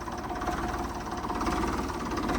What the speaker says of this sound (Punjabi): ਤੇ ਆਵਾਜ਼ ਬਹੁਤ ਸੋਹਣੀ ਆ ਟਰੈਕਟਰ ਦੀ